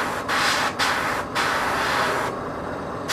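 An airbrush sprays paint onto a miniature in steady hissing bursts separated by brief pauses, close by, with no voices.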